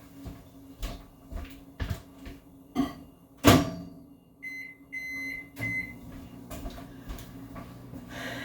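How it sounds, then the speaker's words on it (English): A low steady hum of a running microwave melting butter in a cup, with clunks and a loud bang from its door, followed by a short series of high electronic beeps. "I'm gonna chuck it in the microwave and we're gonna melt it"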